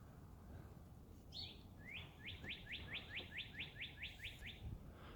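A cardinal sings a bright run of about a dozen quick, evenly spaced rising whistled chirps, clear and moderately near over a soft low outdoor rumble, with no talking.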